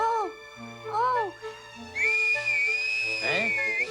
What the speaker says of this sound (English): Parents always teach their children to whistle if they get into trouble and need help.